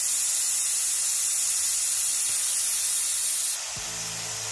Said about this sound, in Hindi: मैंने इसको हल्का सा ऊपर करके यहाँ पे छोड़ दिया तो सारी भाप निकल रही है बाहर